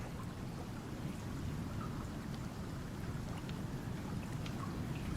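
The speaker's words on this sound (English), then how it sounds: "That storm audio is a little too loud." Thunderstorm ambience in the video game Icarus: dense, steady rain hiss over a heavy low rumble of thunder, loud and continuous throughout with no voices.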